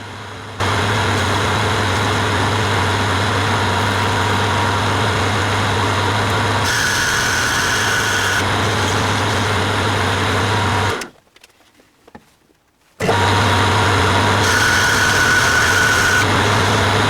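A HAFCO AL-336 metal lathe with a ceramic insert tool turns a steel spigot down to 17.3 mm, a steady loud motor hum and cutting whir that cuts out briefly into near silence before starting again.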